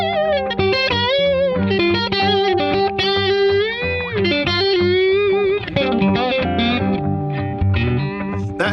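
An electric guitar with mini humbucker and Firebird pickups plays a distorted, effect-laden melodic phrase, loud and sustained throughout with no talking.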